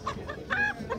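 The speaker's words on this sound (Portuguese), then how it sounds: "E aqui o mestre tá com as galinhas também boas aqui, né, mestre? Galinha de capoeira." Free-range chickens cluck in short, scattered calls at a chicken market in Camocim de São Félix, with steady low crowd murmur behind the nearby birds.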